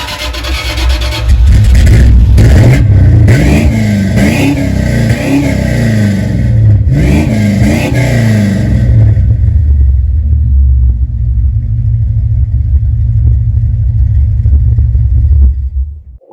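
A 1970s Dodge D100 pickup truck engine revs hard several times, heard from outside the truck, with deep rumbling bursts that then settle into a loud, steady idle for the rest of the clip.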